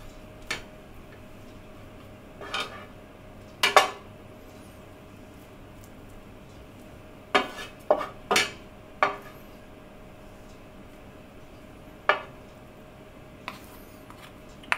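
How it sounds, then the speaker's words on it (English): Two spoons clink and tap against a pan while breaking up a potato and cauliflower rosti mix, giving scattered sharp metallic ticks in irregular clusters over a quiet background. "I'm using 2 spoons to do this. I'm just breaking it up."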